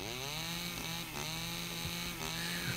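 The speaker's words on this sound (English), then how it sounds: "I do love the chainsaw." A chainsaw in the survival game SCUM cuts down a tree, its engine running loud and steady with a high whine and rough, grinding changes in pitch as the blade bites, with no voices over it.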